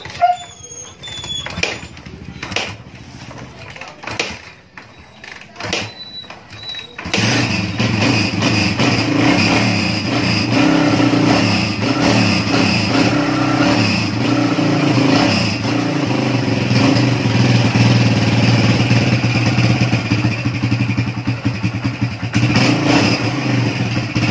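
A Kawasaki Barako motorcycle engine, freshly serviced with an oil change, starts after some handling noises and then idles loudly and steadily up close with a continuous rough, pulsing beat.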